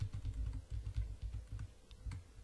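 Arrow keys on a computer keyboard are tapped in a quick irregular series of soft, close clicks, with nothing else heard.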